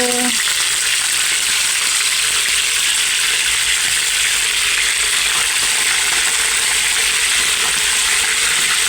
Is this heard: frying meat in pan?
yes